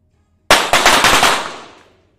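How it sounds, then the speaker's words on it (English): Pistol fire at a 25m para shooting competition: about five sharp reports in rapid succession, close and loud, each trailing into a reverberant decay that fades out over a second. "they have to lower their pistols, then raise them again to make their shots within that threshold"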